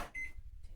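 A microwave oven hums briefly with a short high beep near the start, then a low steady whir continues alone.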